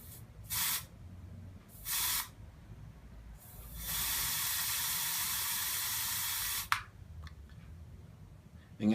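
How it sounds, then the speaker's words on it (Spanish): Aerosol can spraying in short hissing bursts, two quick puffs followed by a longer steady spray of about three seconds, close and fairly quiet, ending with a click. "El aerosol es otro ejemplo de suspensión"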